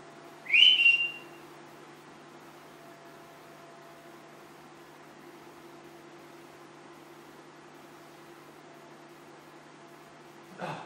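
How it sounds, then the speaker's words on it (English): A single short, bright whistle from a person rings out near the start, then fades into a quiet, steady hum of background noise, with a faint second sound right at the end. "I'm going to whistle in a moment."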